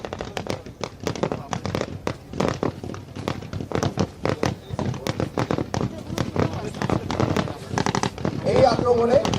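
Dense, rapid volleys of gunfire and sharp artillery cracks during a Bangladesh Army battle exercise, continuous and loud throughout, with voices shouting faintly in the mix.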